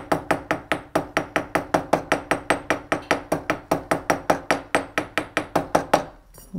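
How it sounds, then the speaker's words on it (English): A steel hammer taps steadily over the solder seam of a silver bangle, about two dozen close, sharp metallic strikes in an even rhythm, then a brief pause at the end. "I'm also going to get my steel hammer again and just texture just over my solder seam so it all blends in together."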